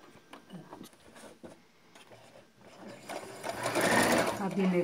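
Sewing machine stitching the folded waistband of a belt salwar, starting with scattered clicks and handling noise under a talking voice, then building into a loud, steady run of rapid stitching near the end.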